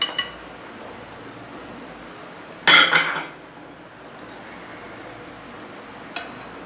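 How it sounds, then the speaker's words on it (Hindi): A mixing bowl is swapped for a larger one while making rajma macaroni chaat, giving a bright metallic clatter of bowl and utensils near the middle, with lighter clinks before and after over quiet room noise. "ये देखिए बॉल मेरा थोड़ा सा छोटा है, इसलिए मैं मिक्स करने के लिए अपना बर्तन चेंज कर रही हूँ।"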